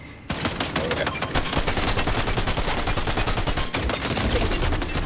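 Dense, sustained automatic gunfire from Fortnite, fired through a car hood, with rapid overlapping shots that run loud and continuous after a brief quiet start and drop out for a moment near the end.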